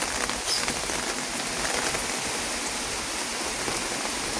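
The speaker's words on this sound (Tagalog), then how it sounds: "malakas na malakas pa ang ulan." Steady, dense rainfall pattering hard on a surface, a continuous loud hiss of heavy rain with no voices.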